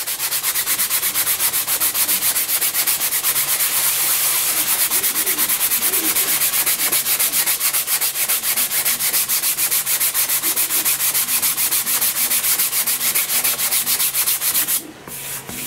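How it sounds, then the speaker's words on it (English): Hand sanding of primer on the wing of a vintage Bob Martin SR-7 RC slope glider, a steady, loud scratchy rubbing in rapid back-and-forth strokes that continues for about fifteen seconds before stopping abruptly. "I'll sand this for a while."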